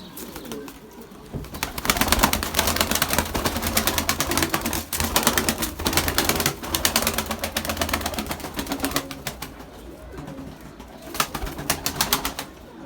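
Pigeons in a backyard coop coo softly among busy fluttering, scratching and clicking. The sounds are close and continuous, with no talking.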